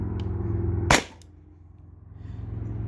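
A Beeman BP50 CO2 marker fires once at a can, giving a single sharp, loud crack partway through, heard over a steady low hum that dips and then slowly returns.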